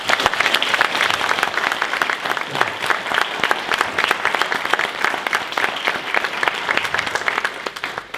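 A room full of people at a charity's annual meeting and awards event applauds its volunteers: loud, sustained clapping with distinct individual claps standing out, fading slightly at the very end.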